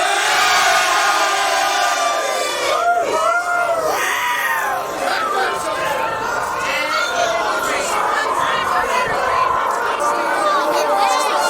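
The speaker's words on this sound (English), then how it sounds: "On the count of three, we bring cheer, okay?" A junior hurling team roars together on a count of three, a loud group cheer of many overlapping voices shouting and whooping that holds strong across the stretch.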